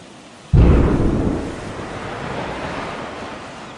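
A sudden deep explosive boom from an atomic bomb, starting loud and rumbling with a long, slowly fading roar that trails off like wind and surf over several seconds, with no voices.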